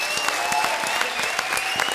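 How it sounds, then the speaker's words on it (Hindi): A studio audience at a televised comedy show claps loudly for visiting actors, with steady dense applause over a held musical tone. "आज इंडिया के बहुत अच्छे एक्टर्स हमारे बीच में हैं, एक बार जोरदार तालियां इनके लिए"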